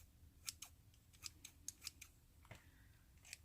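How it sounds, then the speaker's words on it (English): Scissors snip through excess twine on a wooden bead garland, a series of about eight crisp, close cuts at an uneven pace with quiet pauses between them. "just going to trim off a little bit of the excess right here of the twine"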